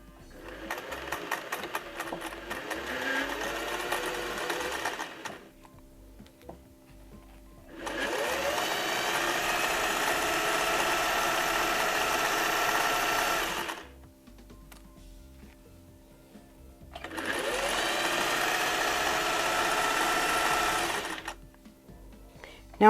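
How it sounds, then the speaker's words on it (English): Sewing machine stitching along the edge of a placemat being made into a mini tote bag: three long bursts of rapid, even whirring, separated by short pauses. "I'm just going to stitch right down"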